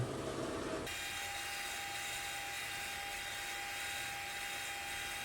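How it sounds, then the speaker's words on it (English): A power saw cuts a board of 8/4 oak to size in a woodshop, opening with a rough burst of cutting, then settling into a steady, loud whine with a constant hum throughout. "So I'm cutting it down to the proper size for my 4th leg."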